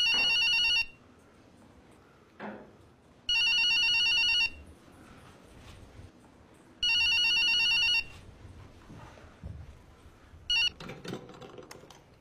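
A telephone bell rings in loud, close bursts, with three full rings and a short fourth one, separated by quieter room noise and faint tapping.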